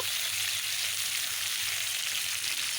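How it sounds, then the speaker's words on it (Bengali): Potatoes frying with salt and turmeric in a pan for a mutton curry, giving a steady soft sizzle, moderately quiet and even throughout with no talk. "লবণ ও হলুদ দিয়ে লাল লাল করে আলুগুলো ভাজা করে নেব"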